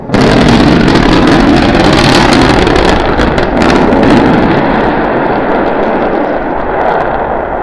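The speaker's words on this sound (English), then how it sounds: "We're preparing to restart 2 engines, flip the vehicle vertical, then transition to 1 engine for the landing burn." Starship SN9's rocket engines roar as a loud, broadband, continuous rush during the relight for its landing burn on a high-altitude flight test, holding steady for several seconds before thinning slightly at the end.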